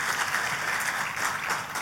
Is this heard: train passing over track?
no